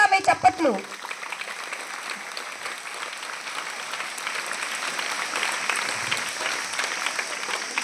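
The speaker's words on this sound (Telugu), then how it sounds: "వీరికి ఒక్కసారి గట్టిగా గట్టిగా మీ చప్పట్లు." An audience applauds two women at a school event, with a burst of steady clapping continuing throughout and a voice briefly at the start.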